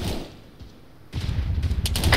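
Gunfire in the ARMA 3 video game, with bullets ricocheting off an armored vehicle: a quiet lull, then a loud burst of rapid shots and sharp impacts clattering near and continuing to the end.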